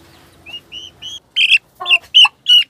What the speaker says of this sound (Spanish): Ellos se ponen muy chillones. Pían y pían y pían.